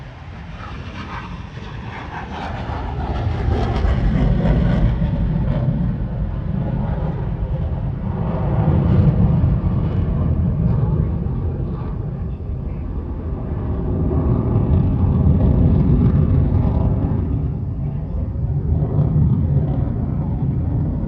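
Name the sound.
F-16 Fighting Falcon (Viper) jet making a low approach at an air show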